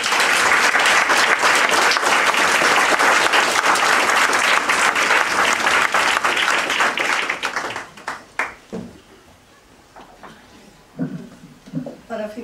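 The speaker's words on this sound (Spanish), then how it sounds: "yo os pido que os unáis en un aplauso a la asociación El PATIAT, a Tere" Loud, dense audience applause at the inauguration of a cultural association's new headquarters in Spain fills the first eight seconds, then fades as a person begins speaking.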